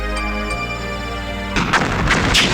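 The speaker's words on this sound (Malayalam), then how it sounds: "നീ എന്തിനടാ ഈ കതിനാ വെടി കെട്ടിച്ചിരിക്കണം?" A kathina ceremonial firecracker blasts in a burst of loud, close booming cracks, several sharp reports in quick succession, breaking over a sustained musical tone that cuts off as they start.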